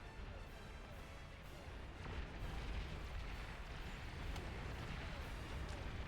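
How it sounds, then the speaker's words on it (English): Bombs from air units burst in an 8v8 match of the real-time strategy game Beyond All Reason, a steady rumbling barrage with scattered sharper booms that keeps going throughout. "there's some bombs going off"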